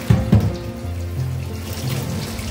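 Water from a tap splashes over hands being washed in a home kitchen, two quick splashes at first and then a steady trickle running into the sink.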